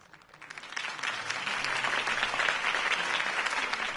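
A crowd applauds after a campaign speech in the Batman Telltale video game, a dense wash of clapping that swells in over the first second and then holds steady and fairly distant, with no talking.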